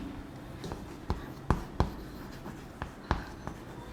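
Pen writing on paper, a quiet scratching with a handful of sharp taps and strokes at irregular intervals, close and faint against a soft background hum.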